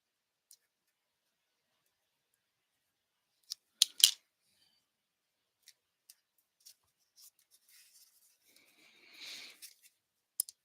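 Paper crafting with scissors: a few sharp, close snips, the loudest pair near the middle, separated by quiet gaps and soft rustling of paper in a still room.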